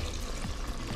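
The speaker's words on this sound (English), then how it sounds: "So we just add more water." Water is poured steadily into a pot of curry being cooked, a short, close, continuous splashing wash with no other sounds.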